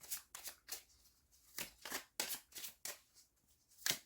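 Tarot cards riffle and slap together in a steady series of crisp, close shuffling bursts, roughly a dozen quick strokes with brief pauses between, quiet and alone without talk.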